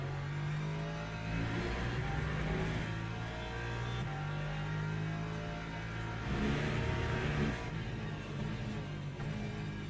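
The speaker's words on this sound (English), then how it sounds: "we got a bunch of LMP2s coming through." LMP2 prototype race cars pass by in Le Mans Ultimate at Paul Ricard, a continuous engine roar with rising and falling swells as they come through, steady and moderately loud with no voices.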